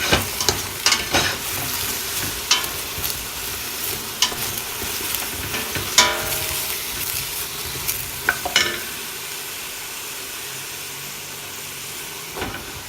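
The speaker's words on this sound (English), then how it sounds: "In a stock pot with a bit of oil, begin stir frying your vegetables" Stir-frying vegetables, starting with eggplant, sizzling in hot oil in a stock pot for kare-kare, with repeated scraping and stirring clatters from a utensil against the pot, close up and without talk.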